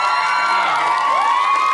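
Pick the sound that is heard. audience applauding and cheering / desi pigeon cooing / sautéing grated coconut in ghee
audience applauding and cheering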